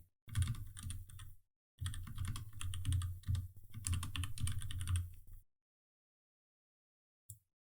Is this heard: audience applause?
no